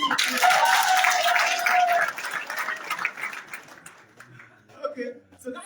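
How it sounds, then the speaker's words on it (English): An audience at a graduation address applauds, a dense burst of clapping for about two seconds that thins out into scattered claps and murmuring voices. "Clap for yourselves."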